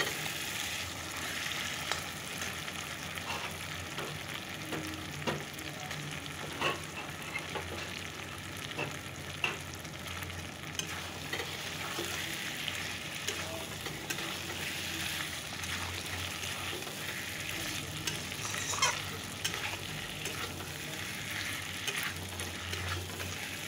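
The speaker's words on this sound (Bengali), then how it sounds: "চিকেনটা কষানো অনেকটা হয়ে গেছে, আলুগুলো ছেড়ে দেবো।" Chicken and potatoes sizzle steadily in a pan in a continuous, fairly loud frying hiss, with occasional light clicks of stirring scattered through and no talking.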